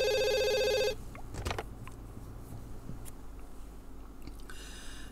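A telephone rings in The Sims 2 life-simulation game, one bright electronic ring that stops after about a second, then quiet game ambience with small clicks before the ringing starts again at the end.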